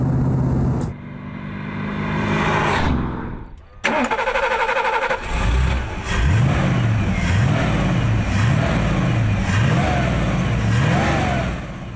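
Vintage Intermeccanica Italia Spyder with a 5.7-liter Ford V8 rumbles and revs repeatedly, pitch rising and falling through gear changes, loud and close under a narrator's voice.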